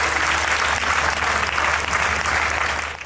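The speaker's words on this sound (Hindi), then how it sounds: "जरा इसके लिए दोनों हाथ उठाकर ताली बजाएंगे" Audience at a Jain religious gathering in Neemuch claps steadily, a dense continuous wash of applause from a large crowd that holds for about three seconds before starting to fade.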